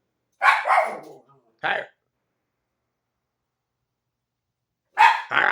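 A dog gives a few sharp barks in short separated bursts, pausing in silence between them; a voice speaks briefly.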